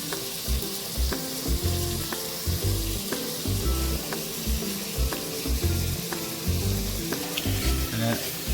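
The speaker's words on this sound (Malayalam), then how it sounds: "അടുത്ത് നമുക്ക് സവാള, ചെറുതായിട്ട് അരിഞ്ഞു വെച്ചിരിക്കുന്ന സവാള ഇട്ട് കൊടുക്കാം." Chopped onion frying in a pan for a quail egg roast, a steady loud sizzle with rhythmic stirring scrapes throughout and no talk.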